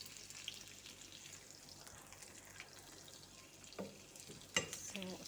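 Onions sizzling quietly in a pan while being stirred, a soft continuous frying hiss with a few scraping clinks of the utensil toward the end, fairly faint and close.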